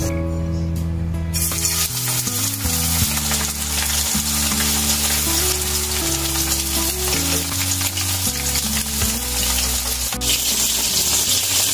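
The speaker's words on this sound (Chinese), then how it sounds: "做这种鱼啊，得多炸一会儿" Hairtail fish sizzles steadily in hot oil in a pan, a loud, continuous crackling hiss heard alongside background music.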